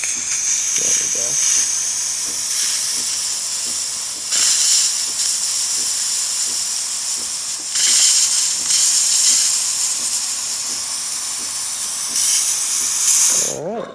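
Close, loud steam hiss from a DeLonghi espresso machine wand, surging in bursts that swell and ease, with brief low clicks and a short voice near the end.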